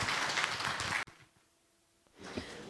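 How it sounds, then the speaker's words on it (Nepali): Audience at a national conference on invasive alien species management in Nepal applauding loudly, then the clapping stops abruptly and the room goes quiet before a swell of noise returns. "ताली बजाएर सबैलाई धन्यवाद दिनुहोस्"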